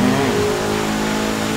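A Mini fitted with a BMW B48 engine revs in a Forza Motorsport race, a steady loud mid-pitched engine drone with a brief rising rev early on, continuous throughout.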